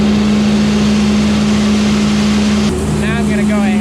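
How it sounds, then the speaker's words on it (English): A feed grinder auger runs while hay is ground, a loud, steady mechanical drone with a constant low hum close by, and a person starts talking over it near the end. "Now I'm gonna go ahead and turn this off and let the auger run out."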